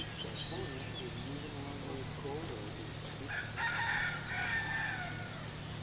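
Chickens and a rooster in a Hawaiian forest, with faint clucks early and a brief crow around the middle, carried over a steady low hum and insect buzz at moderate distance.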